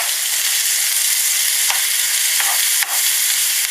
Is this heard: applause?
no